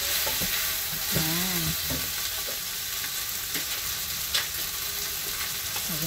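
Chicken with carrots simmering in coconut milk (ginataang manok) sizzles steadily in a pan while being stirred, with a short spoken word over the cooking noise.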